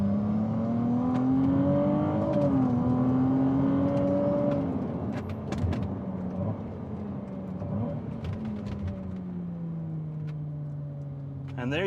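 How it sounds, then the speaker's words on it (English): A Ferrari 296 GTB with a V6 twin-turbo hybrid engine drives on public roads, its engine tone steady and rising slightly as it accelerates, heard from inside the car under a voice. "This is driving the new 296 GTB, Ferrari's first V6 engine twin turbo hybrid, and it is absolutely amazing."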